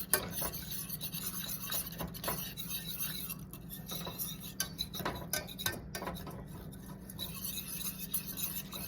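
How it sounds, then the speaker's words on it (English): Tangzhong flour mixture being stirred in a pot with a utensil, steady scraping and clinking strokes repeating close up with no talking. "And you're going to continue to stir this throughout the process."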